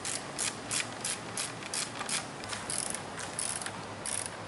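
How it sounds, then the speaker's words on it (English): A ratchet wrench tightening bolts on a DIY wooden hammock stand tripod, giving quick repeated clicking strokes in an uneven rhythm, close and fairly quiet, with no talking. "you just tighten everything down now because you basically put your tripod together"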